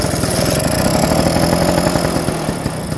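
A 1987 Vespa Excel MK1 scooter with a fuel-clogged carburetor runs after a spray of carburetor cleaner, its small two-stroke engine sputtering into a loud, fast, rattly putter close by, with no talking.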